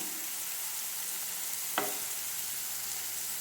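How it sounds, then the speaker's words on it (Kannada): Paneer pieces fry lightly in a pan with a steady, soft, even sizzle throughout, joined by a single brief scrape of a utensil midway. "ಪನ್ನೀರನ್ನು ಒಂದು ಸ್ವಲ್ಪ ಲೈಟಾಗಿ ಫ್ರೈ ಮಾಡ್ಕೊಳ್ತಿದ್ದೇನೆ"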